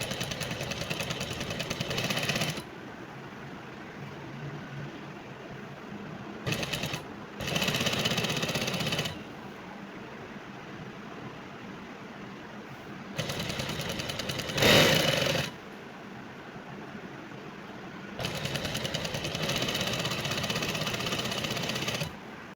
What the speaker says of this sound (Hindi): यहाँ से हाफ इंच फ़ोल्ड करते जाएंगे और सिलाई करते जाएंगे